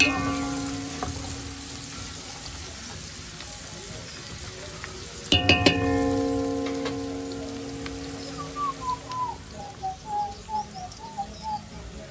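Chopped onions sizzle and fry in a pan with a steady crackling hiss, interrupted midway by a clattering knock of utensil or pan, while chirping birdsong rises in the background toward the end.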